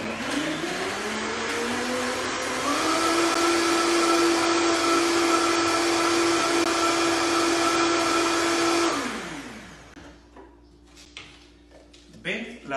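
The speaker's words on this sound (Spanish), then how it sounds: "un aguacate chico, en este caso está muy chiquito, lo partes en cuatro, lo ponemos y regresamos a moler" A blender grinds a salsa with a small quartered avocado, its loud steady motor whine rising in pitch as it spins up, holding for several seconds, then winding down and stopping, followed by quiet handling noises.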